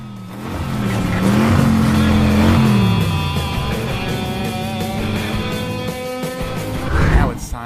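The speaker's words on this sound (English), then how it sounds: "These are the monster trucks that are involved in our race today." Cartoon monster trucks rev their engines for a race, a loud continuous roar with rising and falling pitch that holds steady for several seconds before a final surge near the end, with a voice faintly mixed in.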